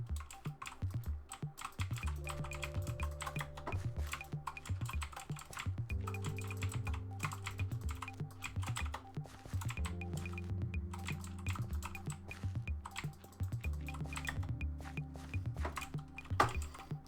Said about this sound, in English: Clickety clack clack click. Mechanicals keyboards for the win.